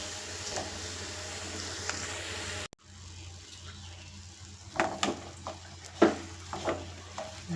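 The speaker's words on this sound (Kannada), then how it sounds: "ಆಲೂಗಡ್ಡೆಯನ್ನು ಚೆನ್ನಾಗಿ ಮಿಕ್ಸ್ ಮಾಡ್ಕೋಬೇಕು" Boiled potatoes are stirred together with onion, coriander and curry leaves in a pan, soft scraping and stirring with a low sizzling hiss and a few sharp clicks of the spoon, no voices.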